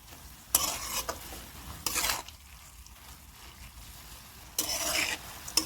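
Chickpea-leaf bhaji being stirred in a pan, with three separate bursts of scraping and stirring over a low, steady background.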